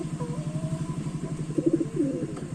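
Pigeons cooing in a loft where two chicks have recently hatched, soft rhythmic low coos close by with a brief higher call partway through.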